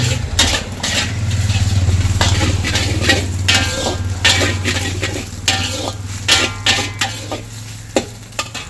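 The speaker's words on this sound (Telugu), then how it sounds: "క్యాబేజ్ అంతా కూడా బాగా మగ్గేంత వరకు తిప్పుకుంటూ ఉండాలి." Cabbage stirred and fried in a pan for chicken fried rice, a loud close sizzle under a low burner hum, with repeated scraping and clanking of a spatula against the pan, no talk.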